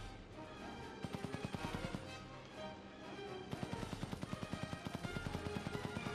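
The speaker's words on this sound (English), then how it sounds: "Well, I mean the other gunshots." Gunfire in the video game Indiana Jones and the Staff of Kings comes as rapid bursts of rhythmic shots layered over a dense, noisy game soundscape, with one burst near the start and a longer, faster run later on.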